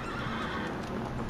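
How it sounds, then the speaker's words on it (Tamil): A horse neighs in the video game Shadow of the Colossus, a whinny set into a dense, steady wash of game ambience with no speech over it. "குதிரை கணக்குது."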